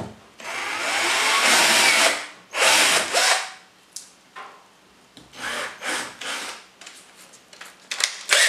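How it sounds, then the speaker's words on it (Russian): A power drill whirs loudly into wood while drilling holes for desk assembly, in several bursts, long at first then shorter and choppier, close by. "делаю сверление под эксцентрик"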